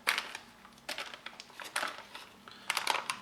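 Muesli being stirred with a kitchen spoon into water inside a UK 24-hour operational ration pouch: soft, irregular crunchy squelches and crinkling plastic, close and quiet, with no speech.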